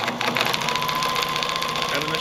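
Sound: Pfaff 1473CD sewing machine sewing a straight stitch

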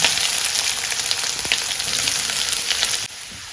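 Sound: mustard seeds, curry leaves and onion frying in oil

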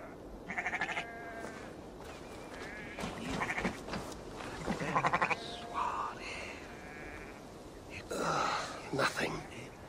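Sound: sheep bleating in video game Assassin's Creed Valhalla

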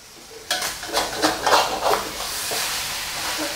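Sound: stir-frying bitter melon with egg

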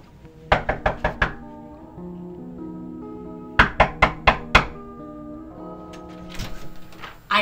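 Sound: knocking on a door

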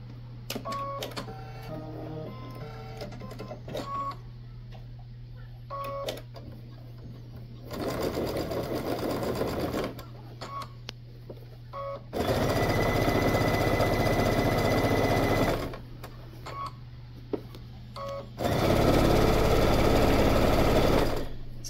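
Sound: sewing machine stitching a fleece bag

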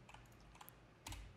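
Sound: typing on a computer keyboard

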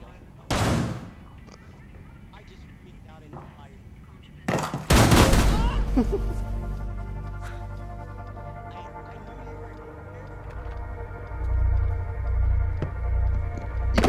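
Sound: shotgun gunfire in the video game Rainbow Six Siege

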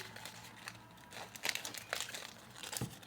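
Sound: small package being opened, crinkling

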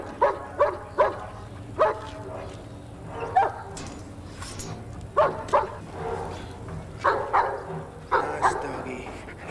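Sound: dog barking

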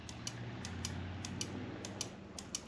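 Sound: clicking of motorcycle lever mechanism

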